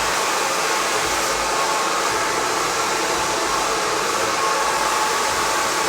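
A hair dryer blows steadily and loudly at close range while drying hair at home, a continuous unbroken roar with no talking over it.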